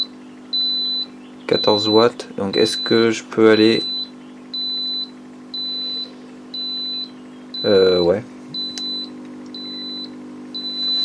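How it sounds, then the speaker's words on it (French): Victron MultiPlus II inverter sounding its grid-loss alarm: a short electronic beep repeating steadily about every second throughout, moderately loud, with someone talking over it in bursts. "il est en train de biper pour me dire qu'il y a plus de réseau"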